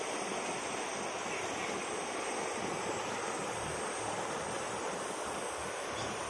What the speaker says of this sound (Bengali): আপনারা নিশ্চয় আওয়াজ পেয়েছেন, এইখানে পানি দেখতে পাচ্ছে